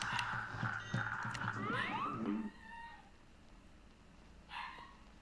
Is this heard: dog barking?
yes